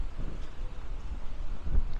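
Outdoor wind in a garden in Maspalomas, Gran Canaria, a steady low rumbling buffet against the microphone with gusts, continuous throughout.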